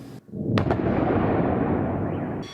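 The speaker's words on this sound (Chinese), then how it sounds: "空中闪过一道光了后，就听到爆炸声音。" A blast during the Russian attack on Kyiv, Ukraine: one loud, deep boom bursts out and rolls on for about two seconds before fading, with no voices.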